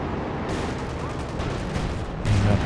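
Artillery strikes a machine gun position in Company of Heroes 2, heavy explosive booms and gunfire rumbling close and loud, with a sharper blast near the end.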